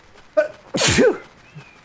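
A parrot gives a single sharp, close sneeze, preceded by a brief chirp, loud and isolated against a quiet background.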